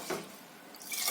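A glass of water poured into moong dal in a cooking pot, a brief faint splash and trickle lasting about a second.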